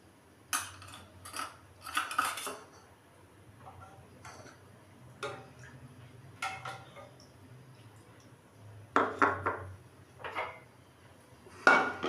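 Milk being poured into a bowl and stirred for homemade yogurt, heard as scattered light clinks and scrapes of a spoon against the bowl in short bursts, with quiet gaps between.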